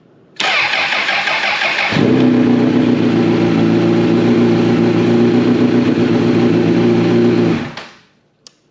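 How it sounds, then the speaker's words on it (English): A used motorcycle engine cranks over briefly, then catches and settles into a steady, loud idle close by for several seconds before being shut off. "Let's see what happens when we start the bike."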